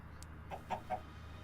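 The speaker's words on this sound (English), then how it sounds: "Apparently the chicken escaped, I'm not really sure how." A chicken in a video game clucks three or four short times in quick succession, fairly close and clear over a steady low background hum, with no talking.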